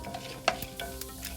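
Chana dal and mustard seeds frying in hot oil, giving soft crackling sizzles with a few sharp pops and stirring scrapes, close and fairly quiet, no talk.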